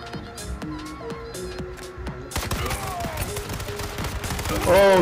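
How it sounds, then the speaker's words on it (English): Rapid gunfire in the online survival shooter H1Z1, dense volleys of shots echoing down an alley, growing louder and busier partway through, with game sounds layered over it. "There's people shooting this alley,"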